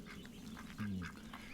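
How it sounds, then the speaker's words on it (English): A duck quacks once, short and faint, against a quiet background hum, in a setting where ducks are being checked, with no talk. "My little duck. You're such a little goof."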